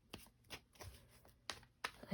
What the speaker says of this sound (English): I'm shuffling the cards on camera.